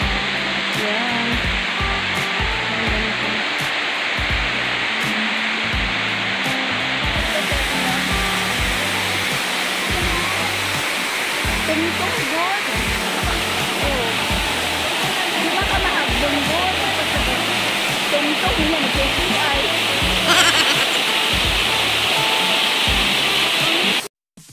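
Waterfall at the Rainbow Pavilion in Kadoorie Farm and Botanic Garden, Hong Kong, rushing loudly and without a break, a broad steady roar with a voice talking over it part of the time.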